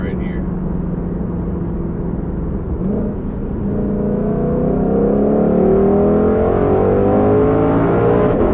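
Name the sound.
Ford Shelby GT500 Mustang accelerating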